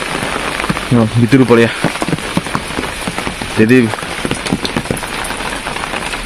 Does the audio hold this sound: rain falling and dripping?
yes